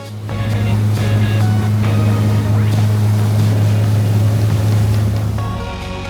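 A fishing motorboat engine on Clear Lake drones loud and close with a steady low hum, water splashing and rushing over it, fading slightly at the end.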